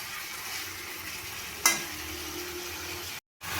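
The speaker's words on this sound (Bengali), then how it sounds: "আলুগুলো দিয়ে আবার চিকেনটাকে একটু ভালোভাবে কষিয়ে নেব।" Chicken pieces and potatoes stir-fried in a wok for a home-style chicken dish, a steady low sizzle with stirring scrapes and one sharp clatter partway through, no voices.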